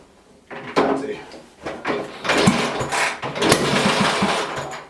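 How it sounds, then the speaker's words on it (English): A BSA C10 250 motorcycle engine, running on carb cleaner after sitting unstarted for decades, catches with a few sputtering bursts, then settles into an uneven, close, loud running chatter. "Oh, that's definitely running."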